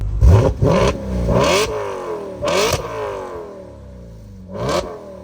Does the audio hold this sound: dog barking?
no